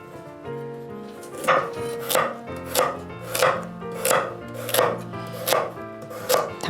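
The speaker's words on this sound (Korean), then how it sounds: "당근이 단단하니까 잘 익게 조금 잘게 잘라서" A knife chops hard carrots into small pieces on a cutting board, about ten evenly spaced crisp thuds in a steady rhythm, close and clear over faint background music.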